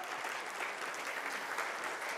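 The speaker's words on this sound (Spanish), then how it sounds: "Dale un aplauso al Señor." A congregation at a church service applauds God, giving a soft, distant, even patter of many hands clapping for a couple of seconds.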